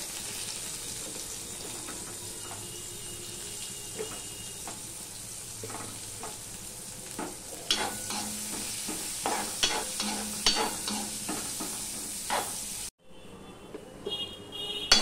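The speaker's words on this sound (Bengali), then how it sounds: "দেখো পেঁয়াজটা লাল লাল হয়ে ভাজা হয়ে গেছে।" Onions fry in a pan over panch phoron, a five-spice tempering, with a steady sizzle. Partway through, a utensil starts stirring and scraping in repeated bursts, then the sound cuts away near the end.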